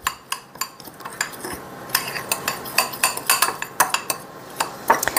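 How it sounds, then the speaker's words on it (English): A fork clinks and scrapes against a bowl while stirring a cinnamon muffin topping, giving quick irregular taps and scrapes at close range with no talking. "Now I'm just going to take my fork and mix this real quick."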